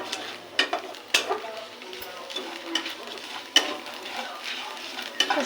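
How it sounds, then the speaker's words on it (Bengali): Gobindobhog rice is stirred in hot oil for begun bhog, giving a soft background sizzle with repeated light scrapes and taps of a spoon against the pan. "এবার দিয়ে দেবো গোবিন্দভোগ চাল কটা, দিয়ে একটু নেড়ে চেড়ে নেব তেলের ওপরে"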